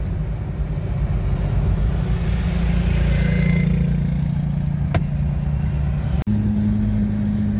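A Force Gurkha 4x4 driving through the Aravali hills near Gurgaon in light rain, its engine a steady low drone with road rumble throughout, a sharp knock near the end and a slightly higher hum after it.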